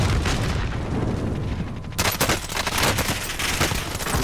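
Rapid gunfire rattles in dense, loud bursts during a Warzone match, with a burst of shots that turns heavier and more continuous partway through.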